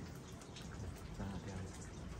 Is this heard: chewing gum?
no